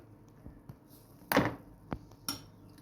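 A spoon stirs currant pie batter in a bowl, giving a few soft scattered clinks and one louder scraping clatter against the bowl, close and quiet.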